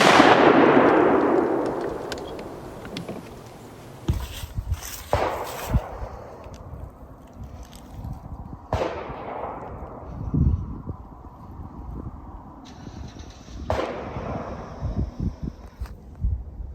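A waterfowl shotgun fires Federal Speed Shock steel shells outdoors during a pattern test, with several loud, separate blasts spaced seconds apart, each trailing off into a rolling echo, and no talking.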